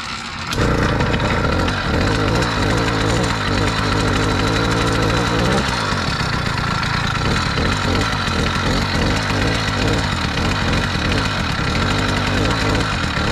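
An 80cc two-stroke engine on a Kent Sea Change motorized bicycle idles while warming up, holding a loud, steady, buzzy putter close by with no pauses.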